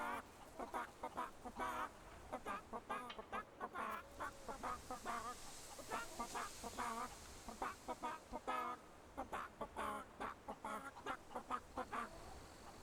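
Chickens clucking in the video game Fable III, a rapid series of short clucks and squawks repeating throughout, fairly close and clear, with a voice faintly present.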